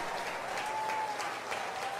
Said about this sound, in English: Clap, clap, clap, quick, clap,